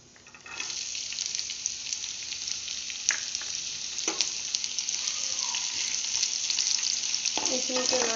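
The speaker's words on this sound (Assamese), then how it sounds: "ইয়াত আমি কাটি থোৱা পিয়াজ আৰু জলকীয়াখিনি দি দিম" Chopped onions and chillies tipped into hot oil with whole cumin for egg keema masala, erupting into a loud, steady sizzle that continues throughout, with a few utensil knocks against the pan.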